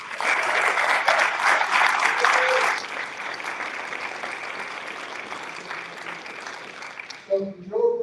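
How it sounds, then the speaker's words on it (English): A round of applause from the audience at a school board of education meeting, loud, sustained clapping that thins out toward the end before voices take over. "Can we give a round of applause?"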